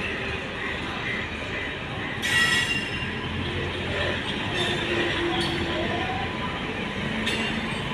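A long passenger train pulling into a station, a steady close rumble of wheels and cars rolling past with bursts of high metallic squeal; no talking.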